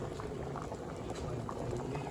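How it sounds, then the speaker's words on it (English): A pot of chili with mushrooms boils on the stove, giving a close, continuous bubbling and popping with a dense even texture throughout. "Well, it keeps boiling"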